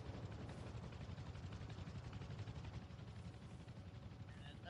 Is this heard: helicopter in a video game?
yes